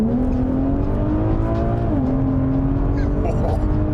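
Infiniti Q60 with an all-wheel-drive stage 2 turbo setup accelerates hard. The engine note climbs loudly and dips briefly at a gear change before rising again, with wind and road noise beneath it.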